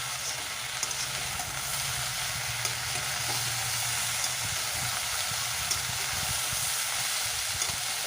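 Mixed vegetables for Bengali shukto fry and get stirred in a pan over a high gas flame, a steady, even sizzle with faint scrapes, no voices.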